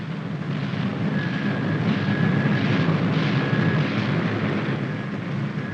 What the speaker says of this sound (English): the first plane hauls her nose round into the wind